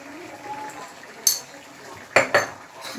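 A spoon clanks against a pot while turmeric and chilli are stirred into a prawn curry, three sharp metallic knocks over a faint background hiss.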